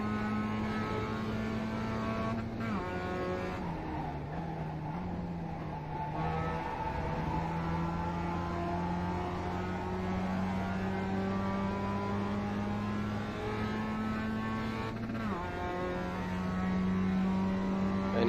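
A Mazda MX-5 race car engine in the iRacing video game at Okayama drones steadily with no one talking, its pitch climbing through each gear and dropping sharply at several shifts.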